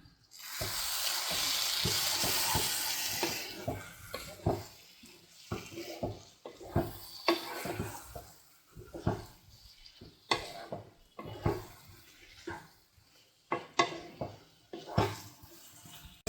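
A pot of gutti vankaya (stuffed brinjal) biryani cooking on medium flame gives a brief sizzling rush, then a long run of repeated scraping and stirring strokes against the pot, moderately close, with no voices.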